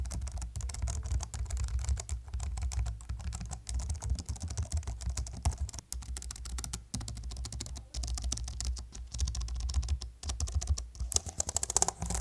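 Steady, quiet clicking of keys on a Logitech MX Keys S keyboard, a fast, irregular run of soft low-profile keystrokes heard close up with no talking.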